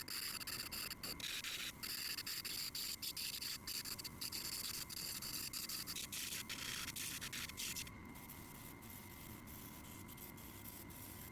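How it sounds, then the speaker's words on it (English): Peridot cabochons ground on a lapidary machine give a steady, close, even rasping hiss with rapid scraping texture, easing to a slightly quieter, smoother tone for the last few seconds. "so let's go ahead and grind these out,"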